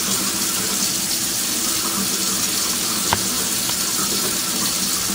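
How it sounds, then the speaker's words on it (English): Cold water pours steadily into a cooking pot on a kitchen stove, a continuous close splashing rush with one brief clink partway through, no voices. "And I pour the cold water in."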